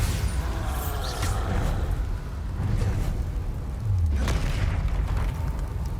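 Deep, rumbling booms from the Bombarda explosion spell in Hogwarts Legacy, several heavy blasts in a row over a steady low roar.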